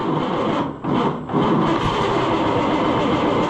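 Oliver 1655 tractor engine starting for the first time after an in-frame overhaul, a loud, steady mechanical rumble running close and continuous, with two brief dips early before it settles into a constant run.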